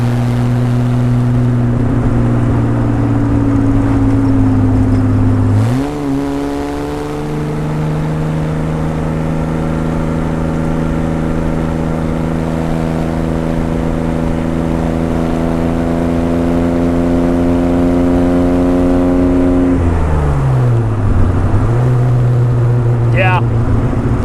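A 1961 Austin-Healey 3000 Mk I BT7 drives with its twin pipe exhaust droning loudly and close, the engine note rising through gear changes with steady pulls and shifts in pitch over a long run.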